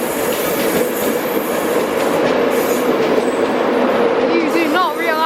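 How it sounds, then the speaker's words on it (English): A class 91 electric locomotive powers out of Leeds station with a loud, steady rumble and rolling wheel noise close by, with brief squealing tones near the end and voices faintly over it. "91 is powering it out of here."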